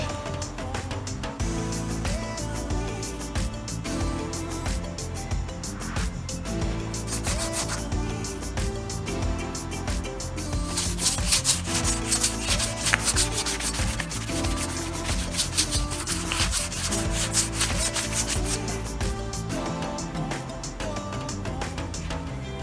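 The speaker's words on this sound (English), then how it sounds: "Rub it in really well." Briwax paste is rubbed by hand into rough salvage timber with a continuous scratchy friction that stays close and steady throughout and grows slightly louder and busier partway through.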